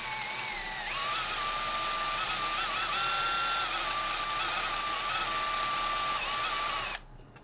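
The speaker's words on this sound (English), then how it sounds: "Once all the glue is out, you grab your number 30 drill bit. You'll start drilling the center of your drill bit." A power drill with a number 30 bit whines steadily as it bores out a rivet on a Yoshimura RS-12 muffler for a Honda CRF, with a high, even pitch that shifts slightly under load and then stops abruptly.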